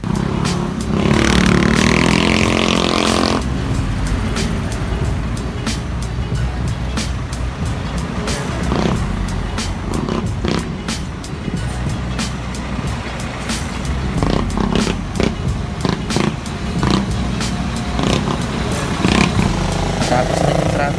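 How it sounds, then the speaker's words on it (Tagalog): Dawn traffic crawls in Cabuyao, Laguna, where engines of buses, trucks and motorcycles rumble and growl close by without pause, with passing vehicles swelling and fading and short clanks breaking through the noise. "madaling araw pa lang, traffic na. Nahihirapan din kami sumiksik dahil sa dami ng bus at truck sa daan."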